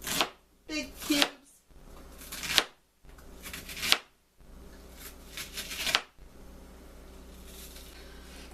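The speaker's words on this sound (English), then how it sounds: "I just want to dice it in kind of big cubes" A knife dices vegetables into big cubes on a cutting board for a split pea soup, with several bursts of quick chopping separated by short pauses, close and moderately loud.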